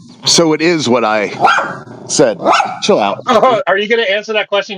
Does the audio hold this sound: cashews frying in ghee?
no